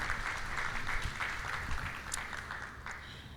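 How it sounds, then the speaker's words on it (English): Audience applause at a panel discussion on drugs, disengagement and displacement: a steady wash of clapping from a crowd, moderately loud and sustained, with no voices over it. "If we could all please give a round of applause for that question."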